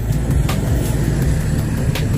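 Steady road traffic at night in Dumaguete City heard from a moving motorcycle, with tricycles nearby: a continuous low engine and road rumble with a few passing swells, no talk.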